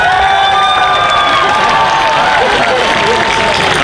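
A festival crowd at a cosplay contest in Orlando bursts into sustained applause and cheering, dense and loud throughout, with high shouts and whistles layered over the steady clapping.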